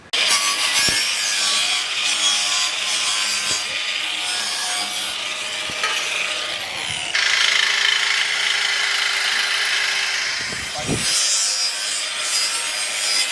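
Abrasive scuffing of previously painted car trim on a 1960s Chevy Nova project, a steady close rasping rub with a few brief pauses and knocks, no talk.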